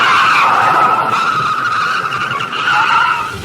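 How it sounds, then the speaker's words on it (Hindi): A car skids across roadside dirt after swerving off a highway. A loud, sustained scraping screech runs steadily for a few seconds and tapers slightly at the end, with no voices. "और सड़क किनारे मिट्टी में कुछ दूर खिसती हुई जाकर रुक गई"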